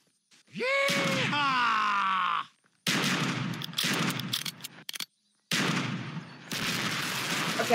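Shotgun fire in the video game Unturned: a low groaning, bellowing tone gives way to rough, loud bursts of blasts that come in ragged clusters with short gaps between them.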